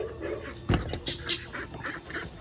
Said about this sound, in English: That's her 4 ducks right there.